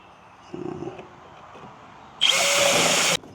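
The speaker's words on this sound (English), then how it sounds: "I'm going to drill the holes where I want those bad boys at" A power drill buzzes briefly for half a second, then after a pause runs at full speed for about a second, loud and close.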